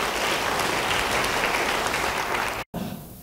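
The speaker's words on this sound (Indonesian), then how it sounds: "ya mau beri tepuk tangan bagi dia" A church congregation claps in a sustained, even roar of applause that breaks off abruptly near the end, leaving a quieter room tone.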